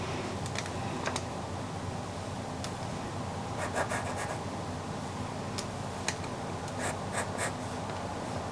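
A pastel pencil draws on paper to paint a crashing wave, giving a steady soft scratchy rubbing with occasional sharper strokes and taps, close and fairly quiet.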